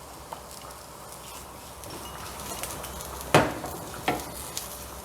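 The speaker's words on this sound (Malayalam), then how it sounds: "ഈ സമയത്ത് 1/2 ടീസ്പൂൺ കായത്തിൻ്റെ പൊടി, 1/2 ടീസ്പൂൺ ഉലുവയുടെ പൊടി കൂടി ഒരുമിച്ചിട്ട് കൊടുക്കാം" Asafoetida and fenugreek powder hitting hot oil for Kerala sambar, giving a steady low sizzle with a few sharper crackles and a stir or clink of the pan near the end.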